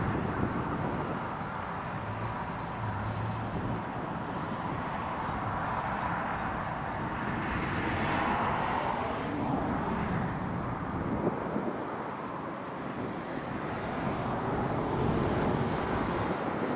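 A Kuwait Airways Airbus A340 airliner taxiing out at Prestwick Airport, heard as a steady broadband jet rumble and whine at some distance, with wind buffeting the microphone throughout.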